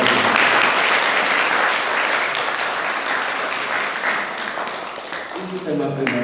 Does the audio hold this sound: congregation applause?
yes